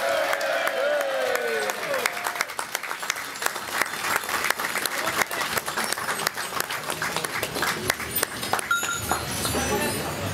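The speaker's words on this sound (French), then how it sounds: "Chers supporters, vos applaudissements" A crowd at the Binche Carnival in Belgium breaks into sustained applause, loud and busy, with crowd voices and calls mixed in over ten seconds.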